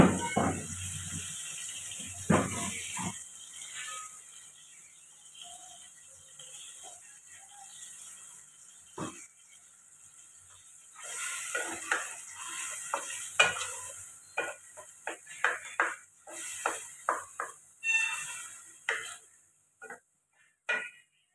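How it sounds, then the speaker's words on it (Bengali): Onion, ginger, garlic and tomato paste hit a hot pan with a loud initial sizzle, then settle into a quieter steady hiss broken by scattered stirring scrapes and clinks that grow busier toward the end. "পেঁয়াজ, আদা, রসুন অ্যান্ড টমেটো এটা পেস্ট করা আছে আমার, এটাই আমি দিয়ে দিচ্ছি"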